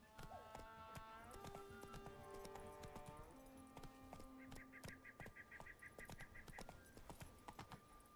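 Hooves of Roach the horse clip-clopping in The Witcher 3 in a steady walking rhythm, faint and quiet beneath tonal game music and ambient sounds.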